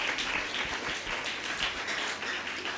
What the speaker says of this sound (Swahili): Uwezi nipigia makofi kidogo na nyinyi.